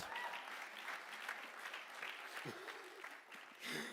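Applause from the audience at a community college scholarship awards ceremony, fairly faint and distant, a continuous patter of clapping with some voices faintly mixed in.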